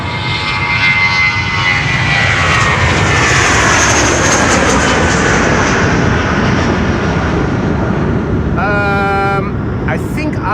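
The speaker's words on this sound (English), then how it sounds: "This is BA in a One World livery to London Heathrow." A British Airways airliner in oneworld livery takes off from the Polderbaan runway at Amsterdam Schiphol bound for London Heathrow, its engines roaring loud and continuous, while a brief electronic beeping sounds near the end.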